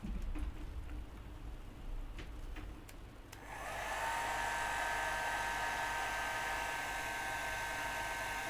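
A hair dryer switches on partway through and runs steadily as a loud, even whoosh with a faint whine, following a quieter stretch of room noise.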